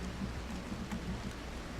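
Steady rain in the RimWorld video game, a soft continuous hiss heard faintly on its own.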